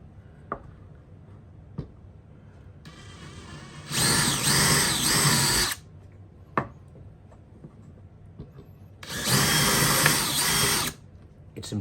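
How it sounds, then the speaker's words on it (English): A power drill bores into blocks of wood in two loud bursts of about two seconds each, whining steadily, separated by quiet gaps with small clicks and knocks of handling. "It's important to drill these blocks of wood or you risk splitting the wood."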